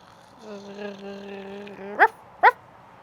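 A low, drawn-out voiced rumble imitating an agitated animal's growl, held for over a second, followed by two short sharp bursts.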